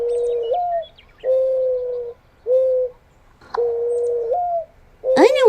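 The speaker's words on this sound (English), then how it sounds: "It's a mourning dove." A mourning dove coos in an outdoor pond setting, giving four drawn-out, mellow phrases separated by short pauses, followed by a fifth call at the end. The calls are fairly close and clear, with no talking over them.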